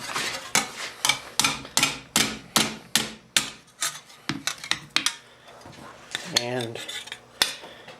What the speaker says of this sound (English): Use the rawhide mallet this time.